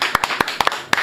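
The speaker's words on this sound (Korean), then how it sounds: "박수로 모십니다" A few sharp, separate hand claps ring out close by in a studio as a political candidate is welcomed onto a talk show, sparse and uneven rather than full applause.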